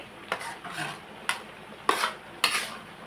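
Beef and pickled bamboo shoots are stir-fried in a pan, with four sharp spatula scrapes against the metal, spaced about half a second apart, over a faint background sizzle. No one speaks.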